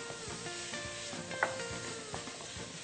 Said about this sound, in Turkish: şimdi havucu gördüğünüz gibi sevgili izleyicilerimiz soğanla beraber soteliyoruz